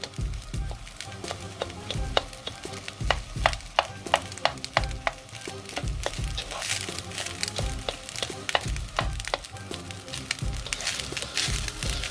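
Rice is stirred in a pot on a stovetop, a spoon scraping and knocking against the pot in irregular repeated strokes over a low sizzle, close and fairly loud, with no talking.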